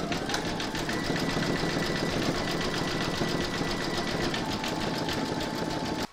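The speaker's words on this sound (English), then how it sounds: "You're now going to stitch round number six, and that's going to zigzag this raw edge." An embroidery machine stitches a zigzag round over the raw edge of an appliqué sloth design in the hoop, giving a steady, continuous mechanical whir with fast rhythmic needle pulses throughout, close and even.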